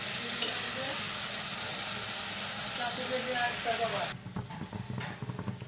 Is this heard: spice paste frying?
yes